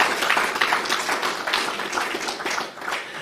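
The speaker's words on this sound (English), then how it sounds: "I think this is worth an applause." A crowd applauds with dense, steady clapping that fills the room, holding strong throughout before easing slightly near the end.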